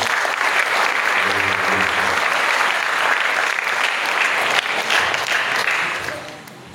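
Sustained applause from a crowd at an Islamic boarding school, loud and steady throughout, tapering off slightly at the end.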